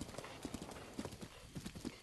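A horse gallops in Zelda: Breath of the Wild, its hoofbeats falling in quick, rhythmic clusters at a moderate distance with a faint whinny-like tone mixed in.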